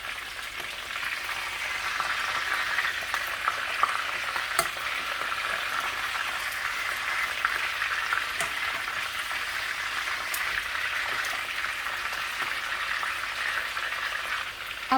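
Stuffed peppers fry in a pan with a continuous crackling sizzle and scattered sharper pops, holding steady throughout with no talking.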